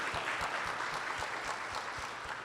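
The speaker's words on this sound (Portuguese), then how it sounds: "Vamos aplaudir também o Sebastião" Church congregation applauding during a Sunday morning service, a steady wash of clapping from many hands, moderately distant and fairly soft, with no talking over it.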